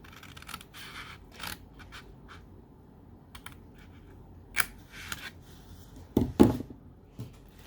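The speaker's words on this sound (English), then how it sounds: "So just take your scissors and go up to the score line." Scissors snip through cardstock for a bag's bottom flaps up to a score line, a few sparse crisp cuts and rustles close by and quiet, ending in a louder cluster of snips.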